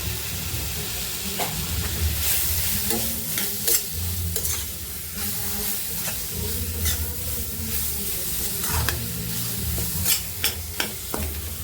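Semolina roasting in a pan with dry fruits as bananas are mixed in, a steady sizzle with repeated spoon scraping and stirring strokes, close and continuous with no talk.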